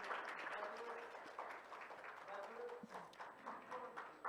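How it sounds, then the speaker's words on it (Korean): Audience applauding at a Korean cloud-platform company cooperation signing ceremony, a fairly faint, steady patter of many hands with a voice speaking over part of it. "여러분 다시 한번 큰 박수 부탁드리겠습니다."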